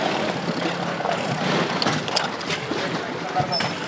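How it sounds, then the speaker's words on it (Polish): A motorboat pulls into a sailing marina at the Gdańsk national sailing centre during a junior championship, its engine a steady broadband rumble and wash of water noise close by, with voices in the background. "tutaj przypłynęła motorówka."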